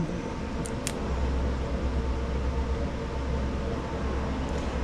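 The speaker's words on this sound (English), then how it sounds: "comes a train" A train passes at a distance as a steady, broad rumble and rushing noise that holds for the whole stretch, with no clear approach or fade.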